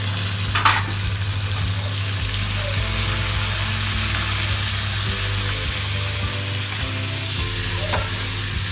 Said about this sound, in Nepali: सबै तरकारी पाकिसकेपछि अब हामी त्यसमा पनिर एड गर्छौँ र एकैछिनको लागि चलाउँछौँ